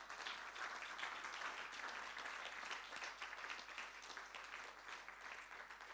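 Church congregation applauding during a French-language sermon, a dense, steady wash of clapping sustained throughout with no break and no clear speech over it.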